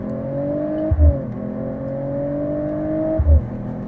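A Mercedes AMG CLE 53 4Matic Plus accelerating hard, heard from inside: a loud, steady engine drone climbing in pitch, broken by two quick gear shifts with brief thumps before the tone rises again.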